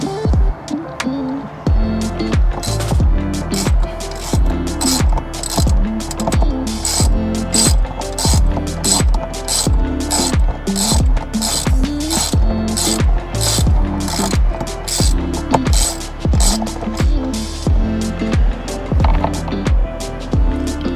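A hand ratchet clicks steadily and loudly while undoing the bolts on a Hummer EV sky panel roof, with rapid repeated strokes running continuously and close up.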